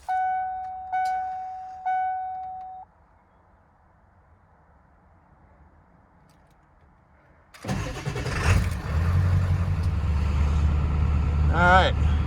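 A Ford F-250 Power Stroke diesel pickup cranks and fires after a few door chimes and a pause, then rumbles loudly up close into a steady running engine as it sets off driving.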